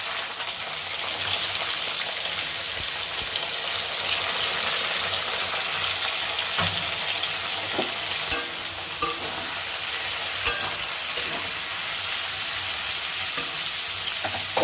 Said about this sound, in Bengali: এখন আমি গাজর, ক্যাপসিকাম, কাঁচা লঙ্কা আর বরবটিগুলি ভেজে নেব